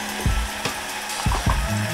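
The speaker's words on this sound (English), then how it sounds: "So we'll give it a quick little stir." Vegetables caramelizing in a hot pan with little oil, a steady close sizzle with several quick, low scraping knocks as they get stirred.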